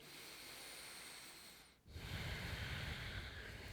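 A slow, controlled breath during a gentle yoga pose: a soft, airy inhale that dips to a brief pause, then a fuller, louder exhale rushing out close by.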